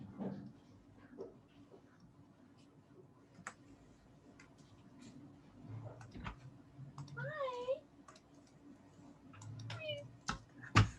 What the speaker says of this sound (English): someone's meowing at my door